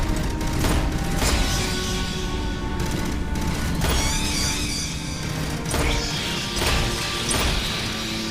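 Rapid bursts of gunfire in the video game Aliens: Fireteam Elite, dense repeated crackling volleys and crashing impacts layered with a continuous score, loud and close with no pause.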